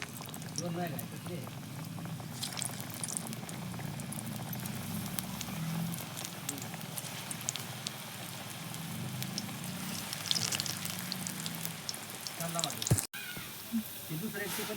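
Aluchi vadi, colocasia leaf rolls, frying in hot oil over a traditional wood-fired chulha, giving a steady, dense bubbling sizzle that runs continuously throughout at moderate loudness, with a brief break near the end.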